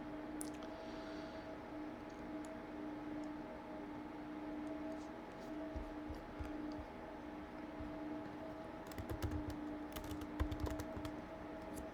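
Keystrokes on a computer keyboard tap out a short web address, coming in brief bursts of clicks late in the clip over a steady low hum and no talk.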